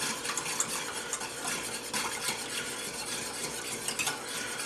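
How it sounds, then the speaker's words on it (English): Evaporated milk and half-and-half poured into a pot of mac and cheese sauce and stirred with a utensil, giving a continuous close scraping, swishing and faint sizzling with light clinks against the pot. "Now I can just add the rest of the milk."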